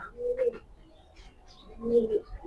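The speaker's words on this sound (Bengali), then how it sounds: "তো আমি এখন ছেড়ে দেখাবো কবুতরগুলা" A pair of racing pigeons coos close by, two soft throaty coos about a second and a half apart with a quiet gap between them.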